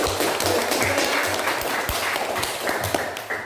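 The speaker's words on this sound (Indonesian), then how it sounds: "tepuk tangan dulu untuk Edmond" An audience claps for Edmond at a training gathering, dense clapping with a few thumps and taps from close by, holding at an even, fairly loud level throughout.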